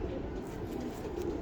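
Pigeons coo softly at a fancier's loft, a faint, low, steady murmur of bird calls with no talking.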